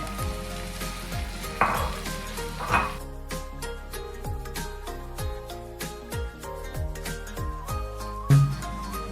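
Blended tomato paste hits a pan of browned onions for a Kerala-style kadala curry, giving off a steady close sizzle and frying hiss, with occasional stirring scrapes and clinks against the pan.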